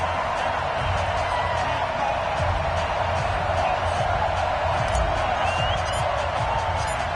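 Stadium crowd cheering in an EA Sports NFL video game before a Baltimore Ravens versus New Orleans Saints matchup, a dense steady roar that stays loud throughout, with no one talking over it.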